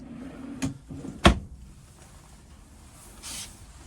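A large drawer in a compact Roadtrek Pivot motorhome slides and shuts with a sharp close thud after a softer knock, followed by quiet interior ambience and a faint rustle.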